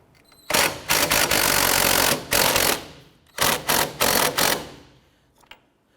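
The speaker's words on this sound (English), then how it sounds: "Using a 15mm deep socket, we're going to go ahead and remove our sway-bar end link nut," An impact gun with a 15mm deep socket spins off the rear sway-bar end link nut on a 2006-2013 Chevrolet Impala strut, loud close rattling bursts in two main runs with short pauses between.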